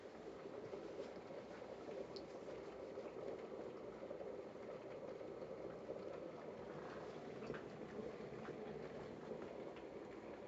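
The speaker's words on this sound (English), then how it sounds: "I can hear the bubbling." A kettle of water nears the boil, giving a steady, continuous bubbling roar close by, even and unbroken throughout with no voices over it.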